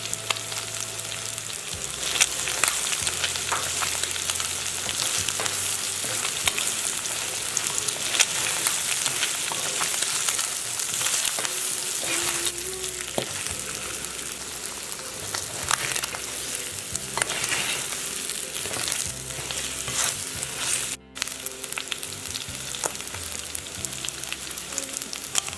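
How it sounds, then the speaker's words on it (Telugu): Chicken gizzards fry in a pan with coriander, cumin and fennel powders, a steady sizzle with occasional stirring scrapes over a long stretch and no talking. "5 నిమిషాలు ఫ్రై చేయాలి."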